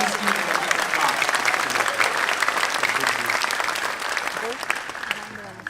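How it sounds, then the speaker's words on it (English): At a high school graduation ceremony, the audience applauds the band director and band students, a sustained, loud wash of clapping from many hands that tapers slightly near the end. "please give them a big applause"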